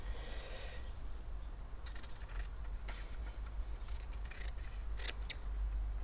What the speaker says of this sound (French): j'ai récupéré mes grands ciseaux et là je fais des bandes toutes fines